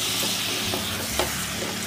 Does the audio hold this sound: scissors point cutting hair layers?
no